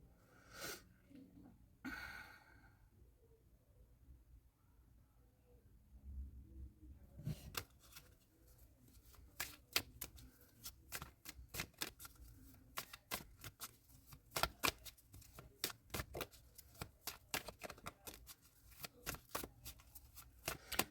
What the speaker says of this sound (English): Bottom of the deck, we have justice